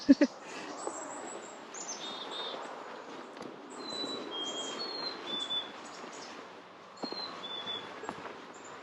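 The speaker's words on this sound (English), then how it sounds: "Lots of bird sounds in that one little area." Several birds chirp and sing in short, high calls scattered throughout, over a steady background hum of distant traffic.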